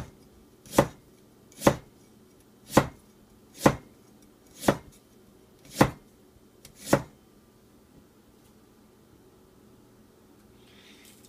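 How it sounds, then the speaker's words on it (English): Ginger being chopped with a knife on a board: seven evenly spaced, crisp thuds about one second apart, then quiet. "Cut some ginger."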